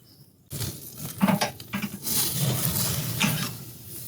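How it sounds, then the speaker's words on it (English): The lid of a KamadoMax 4K ceramic grill being closed, giving a solid thud and a brief rattle of metal parts, close up, with sizzling from the grill continuing afterward. "now we're gonna close the lid"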